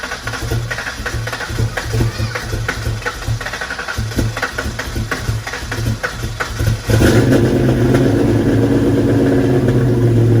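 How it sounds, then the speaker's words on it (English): A race car engine cranks with loud rhythmic chugging for several seconds, then catches and fires into a steady, loud running roar, close up. "I'll just go ahead and put the previous way the car used to start right here"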